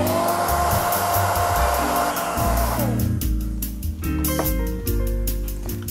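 A hair dryer blows close by with a loud, steady whoosh, its motor pitch shifting partway through while the airflow carries on without a break.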